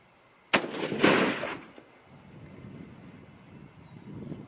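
A single sharp gunshot from a .243 Win rifle fired outdoors, loud and close, followed by a rolling echo and light wind noise.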